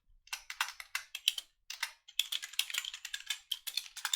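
Rapid typing on a computer keyboard, a dense run of crisp clacking keystrokes with short pauses between bursts. It is close and clear, with no voices.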